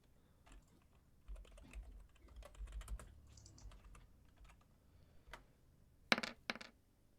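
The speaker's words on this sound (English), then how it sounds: "You were typing so much for just a 1d8" Quick bursts of computer keyboard typing during a tabletop game session, scattered taps at close range with a louder cluster of clicks near the end, faint and without talk.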